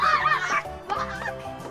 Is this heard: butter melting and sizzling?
no